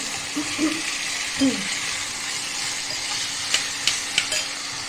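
Potatoes for pani puri are stirred in a pan over a soft background sizzle, with a few quiet scrapes and clicks near the end and a voice briefly murmuring early on.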